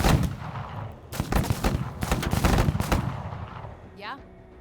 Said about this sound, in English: Grenade launcher is so fucking strong.